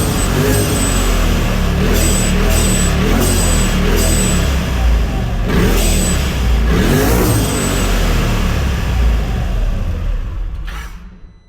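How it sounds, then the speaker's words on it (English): Turbocharged engine of a 2024 Polaris RZR Turbo R fitted with an aftermarket charge tube and blow-off valve, revving loudly and steadily, with repeated short sharp whooshes and hisses of the valve venting between throttle blips, close up with no talk. "I'll leave a sound clip of what the blow-off valve sounds like"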